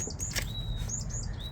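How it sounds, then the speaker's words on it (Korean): Small birds chirp outdoors in a garden during geranium repotting, with a few thin, high tweets and short whistles over a faint, low rustling background. "근데 제가 얘기하니까 새 소리 들리시죠?"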